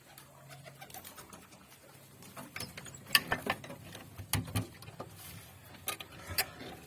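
Pet pigeons coo and flutter close by, with scattered clicks and scratchy rattles over a quiet background; no one speaks.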